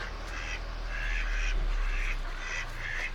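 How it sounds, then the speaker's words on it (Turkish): Ducks quack in repeated short bursts at a moderate distance over a low steady background hum. "Hemen burada yabani ördekler var bakın."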